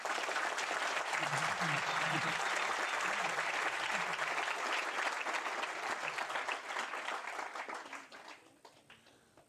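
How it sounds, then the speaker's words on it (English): Audience applause after a rabbi's lecture on gratitude, a dense sustained wash of many hands clapping that stays loud for most of the stretch, then thins and fades out near the end. "Yes, you can clap."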